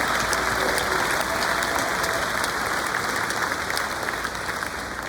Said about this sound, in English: And a round of applause to Jim Porter because he's done a hell of a job at the Pro Football Hall of Fame.